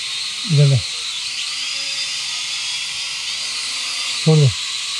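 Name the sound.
toy drone flying, propellers buzzing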